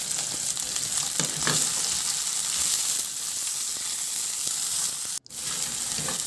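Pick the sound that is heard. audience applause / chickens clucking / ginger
ginger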